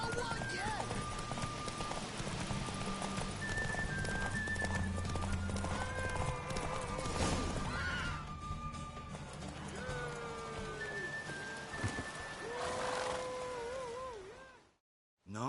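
A horse in The Witcher 3 game gallops in a race, hooves pounding in a fast rhythm with neighs and whinnies over it, while game characters talk and music plays underneath.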